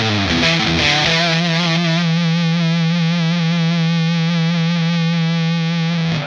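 Electric guitar played through a Redbeard Effects fuzz pedal, one thick, heavily saturated note held and sustaining loudly for several seconds after a short picked attack, with no talking.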